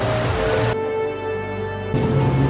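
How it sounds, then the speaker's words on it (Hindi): Steady rain falls in Thailand, a dense hiss of drops on surfaces that drops out briefly in the middle and then returns, with no talking. "हर एक घंटे में बारिश हो रही है भाई।"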